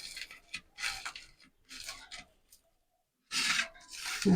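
Burnt dried chili being hand-mixed with salt for a raw mango mash, giving bursts of close rubbing and gritty rasping that stop briefly in the middle, then return louder near the end.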